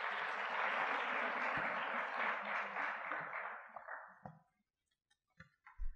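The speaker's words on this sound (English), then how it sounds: "let's please a round of applause" An awards showcase audience claps steadily at a moderate distance, the applause thinning out and stopping near the end, leaving a few scattered taps and bumps.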